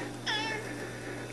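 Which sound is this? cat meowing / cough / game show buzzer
cat meowing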